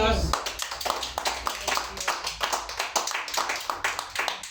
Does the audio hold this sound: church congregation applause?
yes